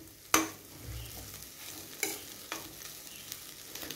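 Egg and crab meat bhurji with chopped coriander is stirred in a pan. Three sharp clanks of the spoon against the pan stand out over a faint, low sizzle, with no talking.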